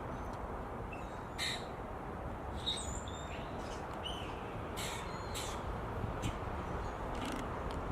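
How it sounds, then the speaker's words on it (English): Birds call intermittently outdoors, with a few short chirps and caws rising over a steady rushing background noise. "the birds are having a lovely time today."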